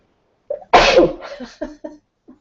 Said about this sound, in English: Oh, and I'm going to sneeze.